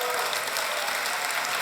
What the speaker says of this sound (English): let's give them the biggest applause that we can have.